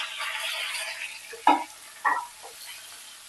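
Ridge gourd and drumstick pieces hit hot oil in a pan, giving a quiet sizzle with a couple of sharp clacks and bursts of spatter from stirring.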